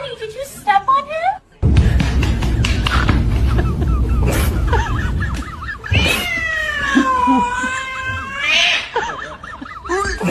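A cat yowls and meows loudly at close range in a home, with drawn-out wailing cries, while people talk and exclaim around it.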